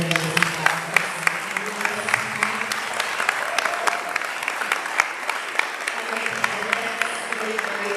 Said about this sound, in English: let's give a round of applause to the NHS members